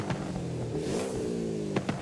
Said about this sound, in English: this sounds like a Subaru WRX, but a lot smoother, you know?